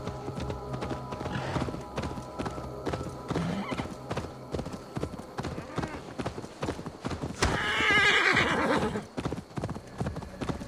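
In Assassin's Creed Valhalla, hooves clip-clop steadily as a horse gallops, then a loud, shrill whinny rises near the end over game music and effects.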